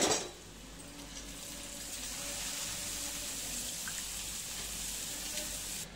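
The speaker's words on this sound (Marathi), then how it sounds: "आता काय पाणी टाकते शिजण्यासाठी." Water is poured steadily into a pot of green moong dal with onion, coconut, tomato and turmeric, making a close, continuous rushing splash that starts loud and settles into an even flow.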